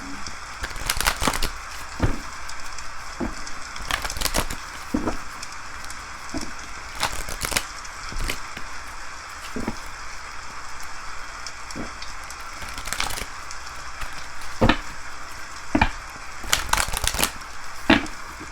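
Wood fire crackling in an indoor fireplace while rain falls outside, a steady soft hiss of rain broken by frequent sharp pops and snaps that come in irregular bursts throughout.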